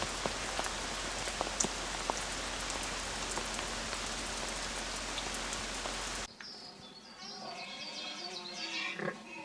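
Steady rain pattering on ground and foliage in wild boar habitat during a first downpour for newborn piglets, dense and continuous for most of the span before abruptly giving way to quieter dripping and faint outdoor sounds.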